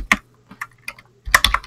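Quick typing on a computer keyboard: a few isolated key taps followed by a brief burst of rapid clacks, close and clear.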